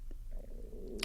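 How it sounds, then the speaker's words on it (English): A human stomach growls in a low, drawn-out gurgle lasting about a second, close and fairly quiet, with no talking over it. "That's my stomach growling."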